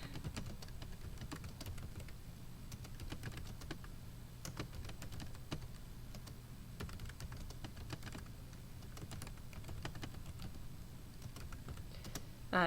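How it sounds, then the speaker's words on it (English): Steady, fairly quiet clicking of typing on a computer keyboard, rapid irregular keystrokes continuing throughout without talk. "So I'm going to type in"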